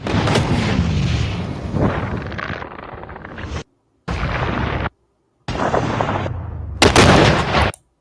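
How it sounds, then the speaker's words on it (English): Heavy weapon fire outdoors: a sustained roaring blast followed by several loud booming bursts separated by short silences, close and powerful, with no talking. "Firing in 3, 2, 1."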